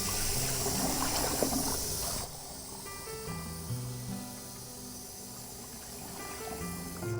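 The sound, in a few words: water running while rinsing out a cup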